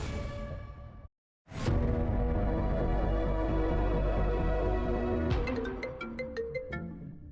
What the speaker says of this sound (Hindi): इस बार फोन की रिंग होते ही